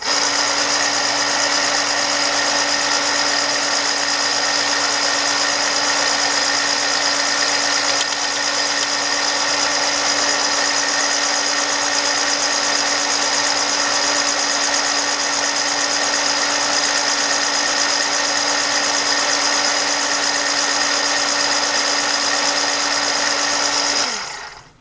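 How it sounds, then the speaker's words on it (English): A powered case trimmer with a dull cutter trims rifle brass for a .338 WSM, giving a continuous steady electric whine with a fixed hum that runs unbroken for about 25 seconds before stopping. "let's go ahead and trim our brass down"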